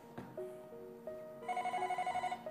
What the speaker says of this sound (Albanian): po mbije telefoni